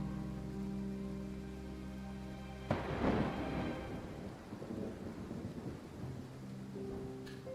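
Thunder cracks sharply partway through a steady rainstorm, then rumbles and fades under continuous rain, with a sustained low musical tone playing before and after the strike.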